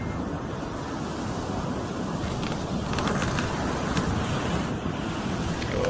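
Ocean waves wash onto a shore in a steady, broad roar, mixed with wind buffeting the microphone throughout.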